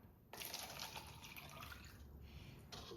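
A cup of water is poured into a pint container, a close splashing, bubbling stream that starts abruptly, runs steadily, briefly dips, then continues, with no voices.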